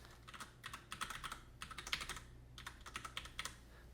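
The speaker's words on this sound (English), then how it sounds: "Typing on this keyboard is fantastic. It's got cherry browns." Keys clack on a mechanical keyboard in quick bursts of typing separated by short pauses, close and fairly quiet.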